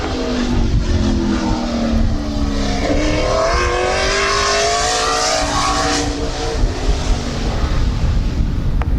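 Race cars on a qualifying lap at Midvale Speedway scream past loudly, their engine notes rising and then bending down in pitch as they pass close by, leaving a sustained roar.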